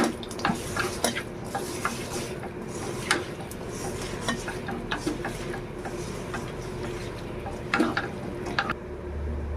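Khoira fish being mixed with spices by hand, close and fairly quiet, with an uneven run of wet squelches, small clicks and knocks against the bowl and no talking.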